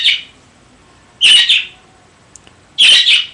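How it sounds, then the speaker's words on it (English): A bird gives short bright chirping bursts, three separate calls spaced over a few seconds with quiet gaps between, clear and fairly close. "The bird is chirping."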